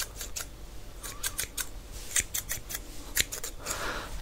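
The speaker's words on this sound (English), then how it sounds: "So I'm gonna use the scissors." Scissors snip in a quick irregular series of sharp metallic cuts, close and fairly quiet, with no talking.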